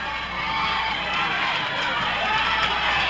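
A crowd at a 1980 Portland professional wrestling match makes a steady, dense roar of voices and cheering, filling the arena with continuous, fairly loud noise.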